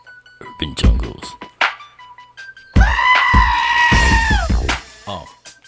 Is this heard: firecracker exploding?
no